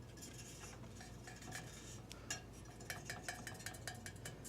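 A finger tapping a metal plate tucked up inside a lamp, a series of faint, light metallic clinks, sparse at first then quicker and more frequent, close to the microphone with no talking.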